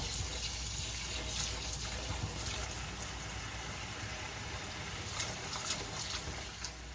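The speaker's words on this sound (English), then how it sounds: "You want to rinse the quinoa to remove the natural coating on the seeds" Quinoa being rinsed in a paper-towel-lined colander under a running kitchen tap, giving a steady, close splashing hiss of water with small spatters throughout and no talking.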